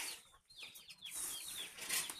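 Hens cluck softly nearby with a few high peeping chirps from chicks and a brief flutter, over a faint outdoor farm hiss.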